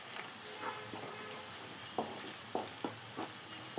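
Turmeric-spiced masala for egg rice is stirred in a pan over steady sizzling frying, with several distinct spoon scrapes and taps standing out close by near the end.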